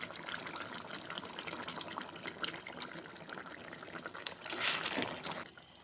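Water pours into a pan of chicken kosha with potatoes, a soft, faint trickle and splash that swells briefly near the end.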